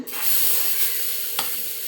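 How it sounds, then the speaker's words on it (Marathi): Mustard seeds tempering in hot oil for a chutney give a steady, close, bright sizzle and hiss that holds for about two seconds, with a brief crackling pop near the end. "आपल्याला त्यामध्ये ही नुसती मोहरीची फोडणी देऊन घ्यायची आहे"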